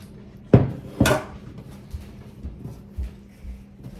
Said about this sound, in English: I'm gonna roll out and knead this dough a little bit.